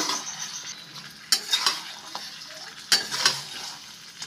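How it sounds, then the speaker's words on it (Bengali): Fried eggs being stirred into egg chilli in a pan, with a steady sizzle and two louder bursts of utensil scraping against the pan, close and clear. "এখন দিয়ে দিচ্ছি ভেজে রাখা ডিমগুলো। খুব ভালোভাবে মিশিয়ে নেব।"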